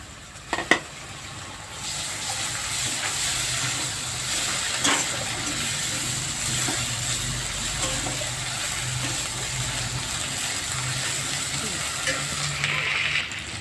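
Turmeric and mixed spices frying in a hot pan for a Bengali dal and pointed gourd dish, a steady loud sizzle with scraping stirring throughout, close up and without talk.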